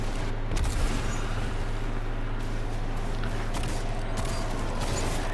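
Ace of Spades hand cannon fire and a large explosion in Destiny 2 gameplay, a dense continuous roar of booming blasts and gunfire with little pause.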